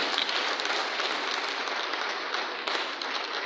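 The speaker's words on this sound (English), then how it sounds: "Please, a round of applause for members of staff of this university" Sustained, dense audience applause fills a convocation hall at Osun State University's 11th convocation, honoring university staff; a steady loud wash of many hands with no break.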